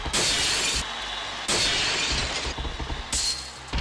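Glass shatters in a cage match in the SmackDown wrestling video game, three loud crashing bursts each followed by a bright, ringing shower of shards.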